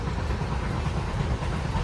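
A moving train produces a loud, steady rumble heard from on board, an unbroken low roar throughout.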